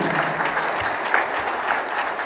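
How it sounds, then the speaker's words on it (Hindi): Hearty applause from a congregation honoring a Capuchin priest at a thanksgiving Mass in Saint Clare Parish, a dense, steady patter of many hands filling the room for the full couple of seconds. "मैं चाहूँगा फादर जी के लिए एक बार जोरदार तालियां"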